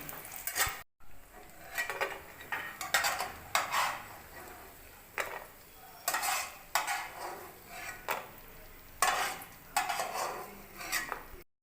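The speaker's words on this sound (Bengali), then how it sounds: "এবার কিশমিশটা দিয়ে একটু ভেজেই তুলে নেব।" Raisins and cashews frying in a pan for pulao, with a spoon scraping and clinking against the metal in regular stirring strokes over a faint steady sizzle, close and fairly quiet.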